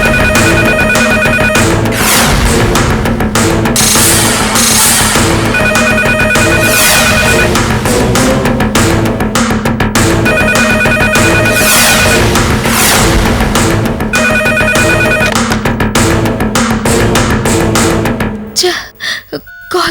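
A telephone in a home rings in repeated bursts of a loud electronic ringtone, layered with background music and a voice.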